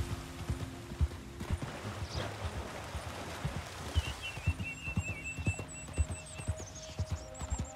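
A horse in Red Dead Redemption 2 wades through water, steady clip-clop hooves with splashing in an even walking rhythm, plus a brief whinny and bird calls in the background, moderately quiet.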